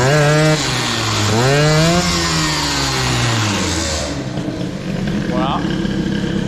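A Parmatoy 65 moped engine with a Boost cylinder head runs nearby, revving up and down in rising and falling whines before settling into a rougher idle, with a short blip later; a voice talks over part of it.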